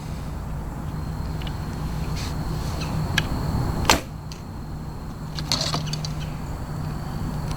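Longbow shot from an Omega Royal Huntsman, arrow loosed downrange at 30 yards outdoors: a single soft thump with a brief swish near the middle, faint over steady wind and ambient hiss.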